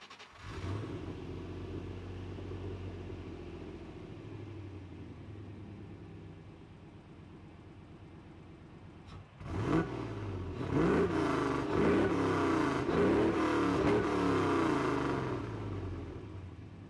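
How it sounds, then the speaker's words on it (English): Land Rover Defender V8 with a custom exhaust and upgraded cylinder heads idling with a deep steady rumble, then revved several times in quick succession, each blip swelling louder and rougher before settling back, close by and with no voices. "the addition of the custom exhaust gives it that proper V8 sound"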